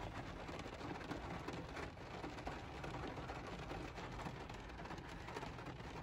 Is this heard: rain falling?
yes